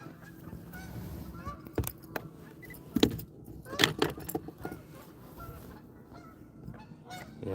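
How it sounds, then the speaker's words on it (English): Canada geese honk in short bursts at a moderate distance outdoors, mixed with jangling and knocking sounds and a faint background of low murmuring. "the Canadian geese are funny"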